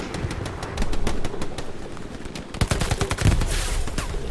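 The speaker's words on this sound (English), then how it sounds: "Yeah, we're getting shot at." Enemy gunfire in the World War II shooter Hell Let Loose: bursts of rapid automatic fire and scattered single shots at mid distance, intensifying in a dense volley toward the end.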